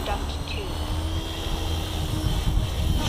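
An Align Trex 550 DFC RC helicopter's rotor spins at high head speed, a loud, steady whine and whir with a rising buzz, close by and continuous throughout.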